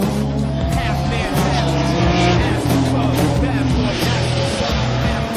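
A Renault Mégane Trophy race car with 400 horsepower drives the Alès circuit, its engine droning loud and continuous with shifting pitch through gear changes, while a voice talks over it.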